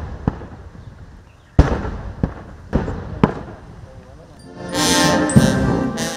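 Ceremonial cannon fire for a 21-gun salute at State House Entebbe booms out in several separate sharp blasts spaced a second or so apart, followed by a swell of crowd or ambient noise with another report.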